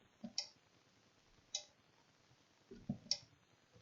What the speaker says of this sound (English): there are relays that are inside this, and they're clicking in and out